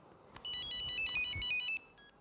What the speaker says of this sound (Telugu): ఫోన్ రా మామ.